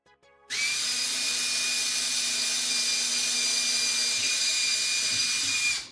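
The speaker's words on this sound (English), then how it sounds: "grab the drill, and we're gonna start our pre-drill at either side" A power drill bores pilot holes in wood while building a miter saw station, a brief click then a loud, steady high whine running unbroken for about five seconds before cutting off, with no voices.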